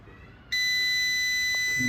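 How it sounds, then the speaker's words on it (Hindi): Multimeter beeping on a continuity test while tracing circuit pins, a steady loud electronic tone that switches on abruptly and holds unbroken to the end. "ये बीप देना चाहिए, ठीक है, 33 ओम्स में बीप होना चाहिए"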